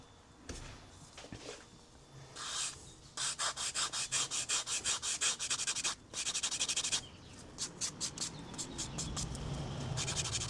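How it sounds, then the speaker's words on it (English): Sandpaper rubs by hand along the sides of a wooden muzzleloader stock in quick repeated strokes, a steady run of rasping scrapes, close and fairly quiet, pausing between bursts. "I'm just going to finish off sides here with a little bit of sandpaper"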